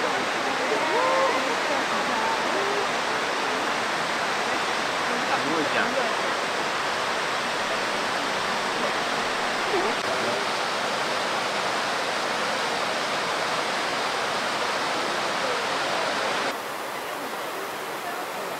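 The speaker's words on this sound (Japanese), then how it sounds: "白ひげの滝っていうんだって。" Continuous rushing water roars close by at Shirahige Falls in Hokkaido, a dense steady wash of falling water that barely changes until it softens slightly near the end.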